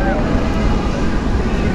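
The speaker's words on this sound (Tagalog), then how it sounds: "Lakas talagang hangin." Strong wind buffets the microphone outdoors as fog rolls in, a loud, unbroken rumbling roar with no pauses.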